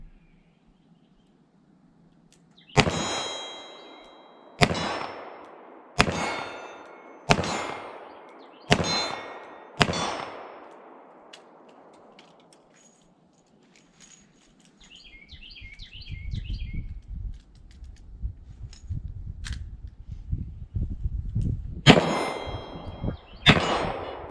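Shots from a Colt Detective Special .38 Special revolver ring off steel plates about 15 to 18 yards away: six sharp, evenly spaced shots, each a loud crack with a bright metallic ring, followed after a pause by rustling and handling noise and one more ringing hit.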